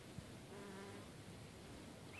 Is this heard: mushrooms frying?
no